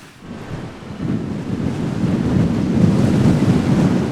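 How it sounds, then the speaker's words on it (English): Strong wind roars and buffets the microphone on an adventure motorcycle trail ride in Southern California, a broad rushing noise that builds and stays loud throughout. "It's really windy out here"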